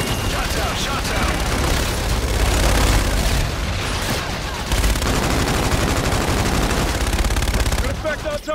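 Requested fire strike raining down in Call of Duty: Infinite Warfare: a dense, continuous barrage of booms, gunfire and explosions with rumbling swells, loud and chaotic, while voices talk over it.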